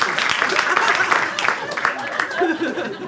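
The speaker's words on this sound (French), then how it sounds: "Arrêtez d'applaudir, mais c'est pas possible." Studio audience applauding on a French talk show, a dense, steady wash of clapping with scattered chuckles and crowd chatter, loud and close throughout.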